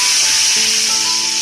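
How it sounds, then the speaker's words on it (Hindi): Hot tempering poured over cooked whole masoor and chana dal, giving a loud, close hiss and sizzle that holds steady for a moment. "अब मैं इसको तड़का लगाती हूँ।"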